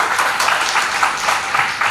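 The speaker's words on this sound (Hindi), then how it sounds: "इनके लिए एक जोरदार ताली होनी चाहिए" An audience claps for Priyanshi at a health talk, a steady dense patter of many hands close by, continuing evenly with no voices over it.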